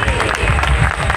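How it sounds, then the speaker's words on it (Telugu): A church congregation claps loudly together at a worship service, a dense burst of overlapping hand claps filling the short moment at close range. "గట్టిగా చప్పట్లు కొట్టండి"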